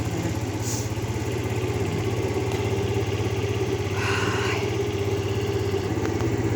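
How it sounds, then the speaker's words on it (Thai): A motorcycle engine idles steadily to warm up, with a low, even rumble throughout, faint clatter and a brief higher hiss partway through. "ตาก็จะเร่งเครื่องนิดนึง วอร์มเครื่องไว้นะพี่น้อง"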